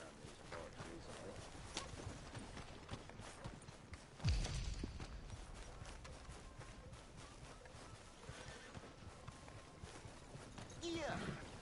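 Horse hooves clip-clop in a steady rhythm in the game Red Dead Redemption 2, faint and continuous under a spoken voice and background game sound.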